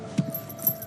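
A brief, soft jingle of keys from the Alan Wake video game, two small metallic clinks over a low steady background hum.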